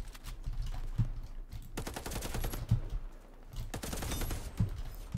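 Rapid automatic gunfire in the PC shooter Warface, with an AK-type rifle: several bursts of quick, crackling shots in a steady rhythm, fairly quiet and recorded alone, without talking.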